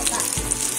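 Mustard seeds splutter in hot oil as sambar spices are tempered, crackling and sizzling steadily, with a brief low thump partway through, close and fairly loud, no voices.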